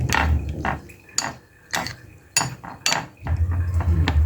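A spoon stirs salt into food in a metal pot while cooking Kenyan chapati rolex, giving several sharp, close clinks and scrapes at an irregular rhythm with short quiet gaps and no voices.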